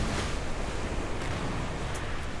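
A spacecraft splashes down on water in Kerbal Space Program, a steady broad wash of surf-like noise and rushing water that stays loud and even throughout, with no voices.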